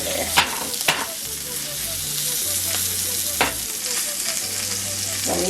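Salmon fries in oil in a pan with a steady, dense sizzle throughout, broken by a few sharp clicks and clanks of a utensil.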